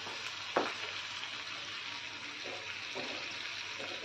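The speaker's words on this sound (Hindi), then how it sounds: "ये देखिए, 9-10 मिनट हो गए हैं सब्जी को कुक होते हुए" Ridge gourd (tinde) sabzi with malai cooks in a pan, giving a faint, even sizzle with a few soft stirring scrapes, one louder near the start.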